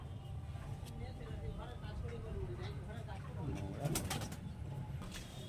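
High-quality flying pigeons, a faint, distant murmur of cooing and occasional wing flaps over steady outdoor background noise, with a voice talking nearby.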